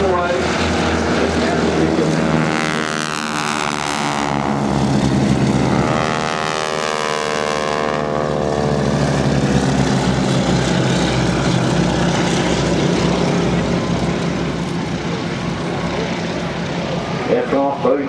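Boeing Stearman biplane in Breitling livery flying at Farnborough Airshow 2014, its propeller engine droning loudly and steadily with a changing pitch as it passes, while a commentator talks over it.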